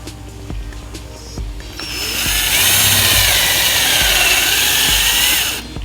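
A cordless drill bores small holes in wood: after a few soft knocks and handling sounds, a loud, close, high motor whine kicks in and holds steady for several seconds before cutting off abruptly.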